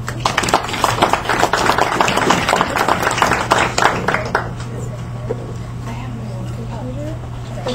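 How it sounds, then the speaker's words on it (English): An audience at a Yes2college program in Sacramento breaks into applause, a dense patter of clapping over a steady hum that thins out and fades after a few seconds. "So give her a round of applause for Rosanna."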